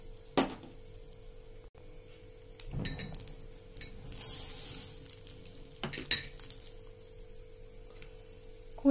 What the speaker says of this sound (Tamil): இப்போ ஆயில் நம்ம சூடாயிடுச்சு. இதில் கடலை பருப்பு சேர்த்துக்கலாம்.